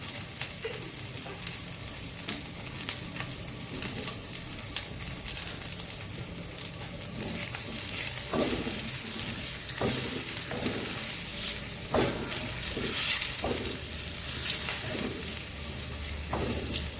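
Cumin seeds and panch phoron crackle and sizzle in hot oil, a steady close frying hiss with small pops and occasional stirring scrapes, no voices.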